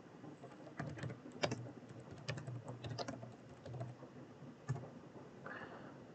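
Keys clatter on a computer keyboard in irregular quick bursts, close and fairly quiet, with a single firmer keystroke near the end and no voices.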